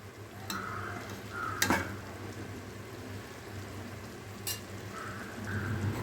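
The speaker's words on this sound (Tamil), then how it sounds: "உங்களுக்கு வேணும்னா ஸ்மாஷர் விட்டு நல்லா தக்காளி எல்லாம் நல்லா மசிச்சு கொடுத்துடலாம்." Cooked tomatoes and dal are mashed with a masher in a pot for gongura sambar, making a steady wet, squelching churn with a couple of sharper knocks against the vessel.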